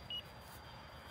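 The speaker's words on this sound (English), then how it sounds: "That's my timer." Two short, high electronic timer beeps, one near the start and another at the very end, sounding over a steady low rumble of background noise beside a B-17 model aircraft.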